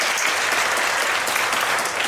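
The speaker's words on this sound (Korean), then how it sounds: "하나님 앞에 영광의 박수를 드리겠습니다" A church congregation applauds after a mission team's testimonies, producing dense, continuous clapping that stays loud and even from start to finish, with no voices standing out.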